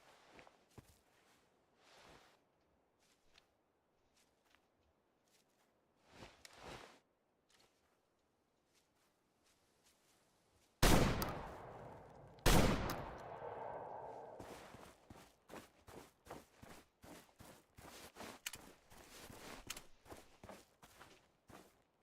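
A shotgun fires in Way of the Hunter 2, a sudden loud blast partway through, followed moments later by a second sharp burst, set against quiet footsteps and soft rustling in the woods.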